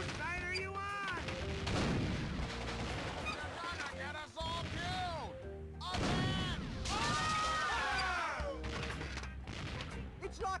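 Video game gunfire crackles in dense, repeated bursts and heavy booms, loud and close, while a voice speaks over parts of the action.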